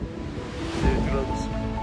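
Cold wind blows outdoors at a farm with caged dogs and mink, fox and arctic fox pens, a rushing roar buffeting the microphone with a gust swelling midway, close and steady.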